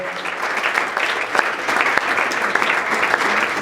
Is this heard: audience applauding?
yes